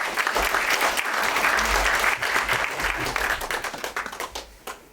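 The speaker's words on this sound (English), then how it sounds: "So, guys, big round of applause for Simon Park" A conference audience in Leeds breaks into applause for a speaker, dense sustained clapping from a sizable crowd that gradually thins into separate individual claps as it dies away.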